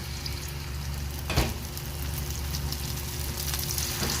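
Steady hiss and crackle of egg frying in a hot oiled pan for a Korean rolled omelette, with a brief scrape near the start.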